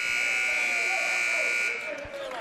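A loud, sustained basketball buzzer sounds at the end of the first half of a Hocking College vs Lorain County CC college game. The steady blare lasts about two seconds over gym crowd noise, then cuts off.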